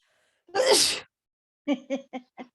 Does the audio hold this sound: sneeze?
yes